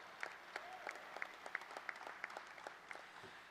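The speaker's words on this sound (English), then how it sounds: "Give them one more round of applause." Audience applause at a hall of fame induction ceremony, a faint, distant round of rhythmic clapping that ends within a few seconds.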